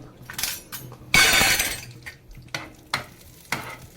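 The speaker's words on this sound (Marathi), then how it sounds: "त्या तेलामध्ये मस्तपैकी आपले जे ड्रायफ्रूट्स आहेत ते आपले फ्राय करून घ्यायचे" Dry fruits frying in oil and being stirred for vermicelli kheer, with scraping stirs, a burst of crackling sizzle and repeated clinks of a spoon against the pan, close and fairly loud.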